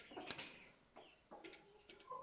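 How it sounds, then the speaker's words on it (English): A broody hen gives a few soft, low clucks and murmurs, close by and quiet, with brief pauses between them. "our long-term broody hen here"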